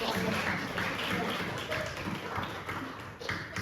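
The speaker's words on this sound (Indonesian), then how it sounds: "beri tepuk tangan untuk kelompok 1" Students in a chemistry classroom clap for a group after its presentation, a brief, scattered round of applause with voices mixed in throughout.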